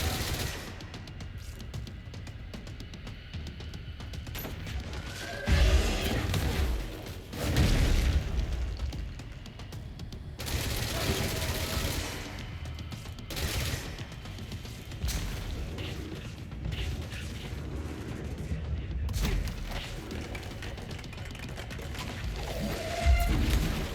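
Gunfire and booming blasts from an enemy in the video game Control, heavy bursts recurring across the stretch with dense rumbling low end and scattered sharper cracks, loud throughout with no talking.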